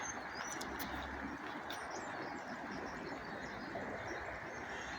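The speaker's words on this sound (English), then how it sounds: "it's just nice to get out early in the morning and listen to the birds and hear the river" Birds call in the morning beside the Lewis River, with dove-like coos and brief chirps heard faintly over a constant broadband rush of flowing water.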